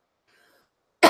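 A single loud cough bursts out at the very end, after near silence with a faint, barely audible murmur earlier.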